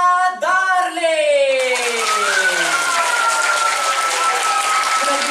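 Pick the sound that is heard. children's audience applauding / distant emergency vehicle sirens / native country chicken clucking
children's audience applauding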